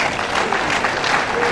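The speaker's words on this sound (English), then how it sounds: "Another round of applause for him." An audience at a polytechnic inaugural lecture claps in steady, dense applause that fills the hall at an even level throughout, with no speech over it.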